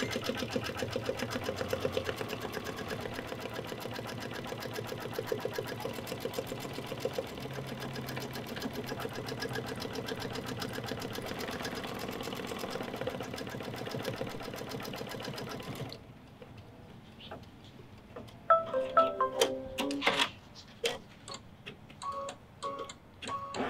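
An embroidery sewing machine stitches a tack-down line with a fast, steady mechanical ticking that runs continuously for about sixteen seconds, then drops quieter before sharper clacking bursts resume.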